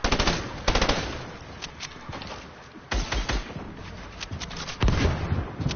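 Rapid bursts of Tommy gun SMG fire in a video game come loud and close, several separate volleys with short gaps between them.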